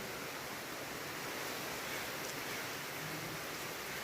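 Heavy rain pours outside a restaurant at night, a steady broadband hiss of downpour on surfaces that holds constant throughout with no voices.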